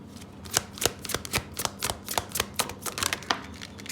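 Tarot cards are shuffled by hand in a quick run of crisp snaps and flutters that turns into rapid riffling, close and alone with no talk.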